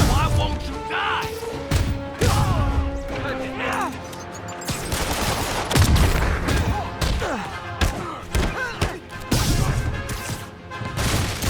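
Gunfire in Spider-Man Remastered on PS4: loud, repeated bursts and volleys of shots with crashes and thuds across the whole stretch, mixed with shouting voices.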